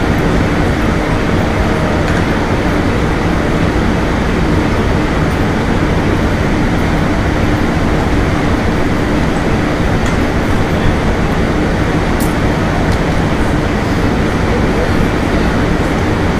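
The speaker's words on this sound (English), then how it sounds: "Amtrak Train 97. Service to Miami." An Amtrak Silver Meteor passenger train rumbles past continuously and loudly at close range, a steady dense roar with faint rhythmic clatter throughout.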